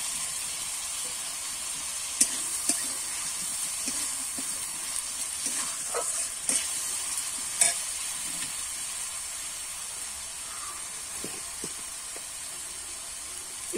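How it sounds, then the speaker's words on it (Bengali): Tomato added to a pan of fried onion, ginger and garlic sizzles quietly under a steady hiss, with occasional scrapes and clicks of a stirring spoon against the pan. "এবারে কিন্তু টমেটোটা দিয়ে দেবো।"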